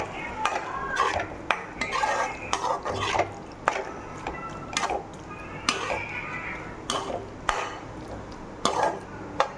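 A spoon stirs paneer masala gravy in a pan, with repeated sharp scraping clinks against the metal and a soft sizzle underneath, the strokes coming irregularly and close by.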